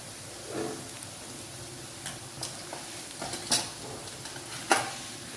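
Wild greens (chaichi bhaji, a foraged hill vegetable) sautéing in a pan with turmeric, red chili powder and spice mix, a soft low sizzle broken by scattered stirring scrapes and clicks, fairly quiet and close.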